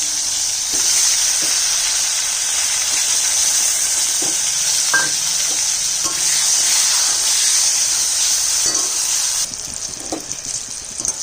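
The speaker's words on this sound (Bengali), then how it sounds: "বেগুনটাকে ভেজে নেব" Eggplant frying in a hot wok gives a loud, steady close sizzle lasting throughout, with occasional light stirring clinks, easing a little near the end.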